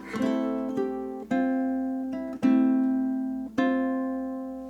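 Finger-picked ukulele notes from Chopin's Funeral March ring out one by one in a slow phrase, each note sustaining and fading before the next, clear and close with no talking.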